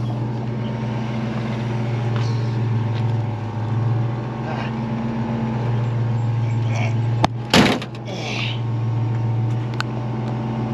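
A 1967 Mustang with a freshly installed FiTech EFI system and a new clutch runs with a steady, moderately loud engine drone. A brief sharp clunk cuts through near the end.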